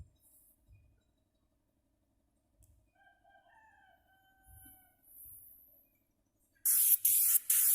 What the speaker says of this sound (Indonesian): Jadi kita semprotkan secara merata, mau 1 atau 2 lapis hasilnya tetap sama